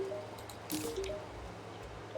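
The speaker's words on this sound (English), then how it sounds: "Bottomless water bucket." A bottomless water bucket pours in the game Terraria, giving a short wet squishing splash with a few dripping blips over a quiet hum.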